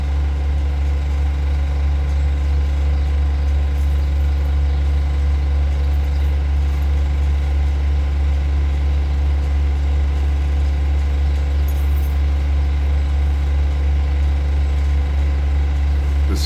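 Council contractor vehicle's diesel engine idling in the road, a steady deep rumble with a constant low drone and even loudness throughout, no voices.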